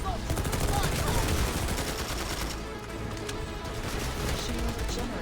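Rapid bursts of automatic weapon fire rattle through a Planetside 2 battle, with dense overlapping shots near and far that dip briefly in the middle, alongside occasional in-game voice chatter.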